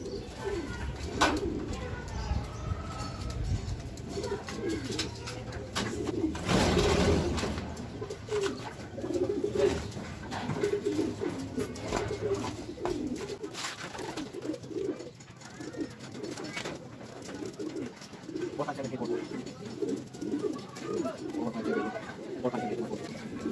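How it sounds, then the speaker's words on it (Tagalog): Racing pigeons in a loft give low, rolling coos and scattered calls through a long stretch, with people talking nearby and shuffling, handling noises in between. "Ito yung ibon natin guys, from Balatan Camarines Sur"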